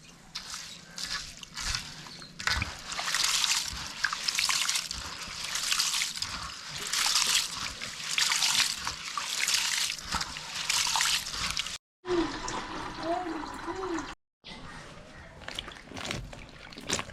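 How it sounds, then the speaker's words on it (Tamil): Rice and lentils being washed by hand in water in a Jaffna village kitchen, with steady sloshing, dripping and squishing at close range, a short gap near the end, and no speech. "அரிசியும் பருப்பையும் நல்லா கழுவி எடுப்போம்."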